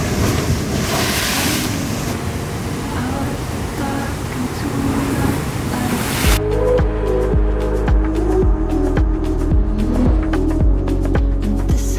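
Ocean waves and surf breaking at high tide on an Azores shore, a steady loud roar of surging water and wind buffeting the microphone, then a sharp change to rhythmic, evenly spaced pulses for the rest.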